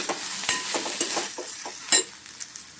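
Onions and green chilies sauté in a little ghee while a spoon stirs them, giving a steady close sizzle broken by repeated scraping strokes and a few light metallic clinks of the pan.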